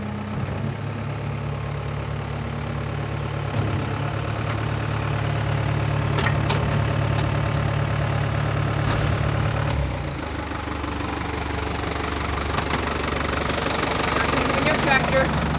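Engine of a New Holland farm machine drones steadily from inside the cab during harvest, a constant low rumble with a whining tone, while people talk over it.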